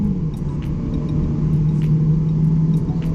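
Mercedes-Benz A200 AMG Dynamic sedan with a 163 hp engine accelerating hard from a standstill toward 100 km/h in sport mode, a steady, loud engine drone with a rising tone heard close up.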